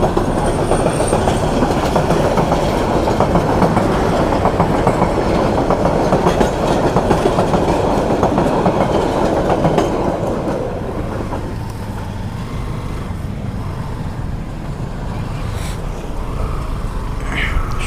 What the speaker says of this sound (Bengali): সকাল সকাল প্রথমেই ট্রেনের সিগনালে পড়ে গেলাম।